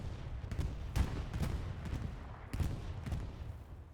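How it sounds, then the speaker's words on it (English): A grenade explodes in a multiplayer shooter video game, one of several sharp, booming bangs in a quick, uneven string amid a constant background of distant gunfire. "Ah, a grenade."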